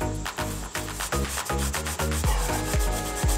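Scouring pad with Goo Gone scrubbing paint splatter off a car tire, quick rhythmic back-and-forth rubbing strokes, close and fairly loud, about a dozen passes in a few seconds.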